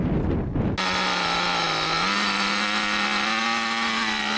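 An RC truck's motor starts abruptly after a moment of gusty noise and holds a steady, close whine whose pitch steps up partway through. No voices are heard.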